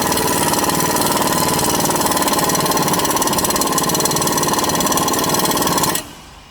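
A pneumatic impact wrench with a socket tightening a suspension nut on a 2016 Chevrolet Silverado, a loud continuous rattling hammer for about six seconds that then stops abruptly.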